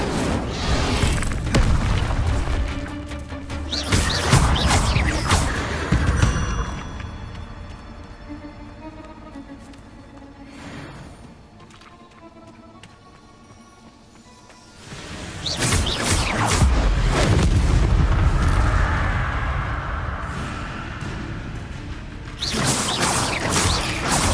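Incendio fire and Levioso spells cast in Hogwarts Legacy, loud whooshing bursts and crackling blasts separated by a quieter mechanical lull, with booming impacts returning in later waves.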